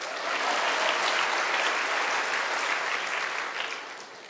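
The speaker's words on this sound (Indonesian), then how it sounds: "Enggak, tepuk tangan enggak apa-apa." Audience applause at a church talk, a dense, even burst of clapping from a crowd that swells quickly and tapers off near the end.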